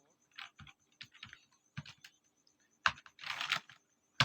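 Computer keyboard typing in short bursts of rapid clicks separated by pauses, close and clear, with a quick final run of keystrokes near the end.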